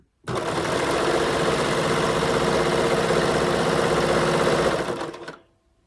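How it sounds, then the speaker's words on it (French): Sewing machine stitching fabric placed under the presser foot: one continuous fast mechanical whirr of about five seconds, close and steady, ending abruptly, with no voice. "J'ai mis mon tissu, comme d'habitude, en dessous du pied presseur. Et on va commencer la couture."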